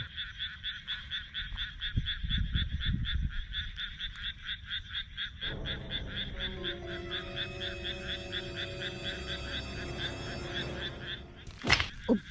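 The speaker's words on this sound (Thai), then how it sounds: "กบครับกบน้อย" Small frogs croaking in a steady, rapid pulsing chorus after fresh rain in Japan, loud and continuous throughout, with a low rumble and brief handling noise mixed in.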